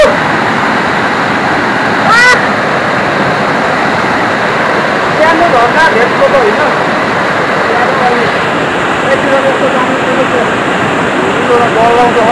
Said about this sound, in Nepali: त्यहाँ झरना छ